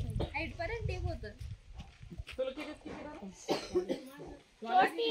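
A woman coughs repeatedly in short harsh bursts and clears her throat, close by, with voices talking around her.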